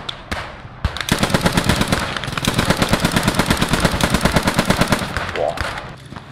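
Loud, close automatic gunfire in the WWII shooter Post Scriptum: a long, steady stream of rapid shots in an even rhythm, opened by a few scattered reports before the sustained burst.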